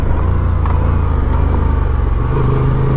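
A Honda Transalp 750 motorcycle's engine roars loud and close as the rear wheel spins, with a steady throbbing drone that wavers slightly as traction control cuts in.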